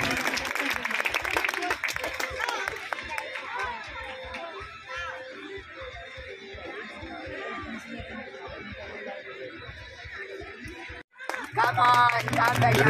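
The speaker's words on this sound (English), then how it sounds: "let us welcome these budding athletes with a thunderous applause" Spectators at a school sports day applaud and cheer before a 50-metre race, a dense, sustained patter of clapping with crowd chatter, then a brief pause and a louder burst of clapping near the end.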